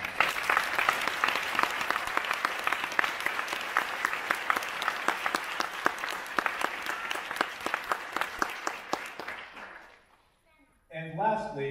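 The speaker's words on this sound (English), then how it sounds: "Give her a round of applause." Audience applause at a school band winter concert: sustained clapping with sharp individual claps standing out, gradually thinning and fading to near silence before a voice starts speaking at the end.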